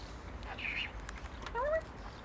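A pet bird gives a few short, high chirping calls, close by and fairly faint, over a quiet indoor background.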